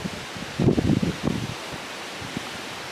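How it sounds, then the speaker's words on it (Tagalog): Wind stirring the leaves of trees beside a creek in farm country, a soft rush that swells briefly into a louder gust of rustling and then dies back to a low breeze. "Sarap ng hangin dito, oh."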